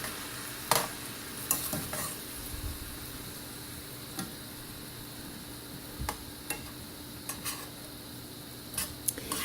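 Vegetables for veggie lo mein are stirred in a pan over low heat, giving a soft steady sizzle with occasional sharp utensil scrapes and taps against the pan, close and without talk.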